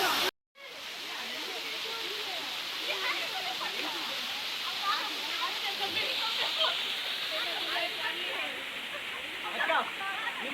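A waterfall roars in a steady, loud rush of broadband water noise that starts after a brief cut and fills the scene without a break.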